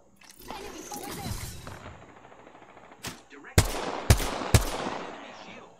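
Gunfire in the battle royale game Apex Legends: scattered shots, then three sharp, loud cracks roughly half a second apart near the end, with quiet game sounds between.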